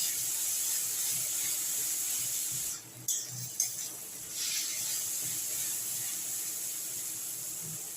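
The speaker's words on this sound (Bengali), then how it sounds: "এবার এটাকে একটু ভাজা ভাজা করবো।" Ginger and garlic paste fries in a pan for masoor dal, giving a steady, close hiss of sizzling oil that runs almost unbroken, dipping briefly once before carrying on.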